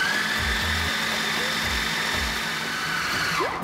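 Food processor whirring steadily as it mixes pie dough with ice water for a strawberry rhubarb pie, a continuous close motor drone with pulsing low thumps of the dough tumbling inside, ending abruptly.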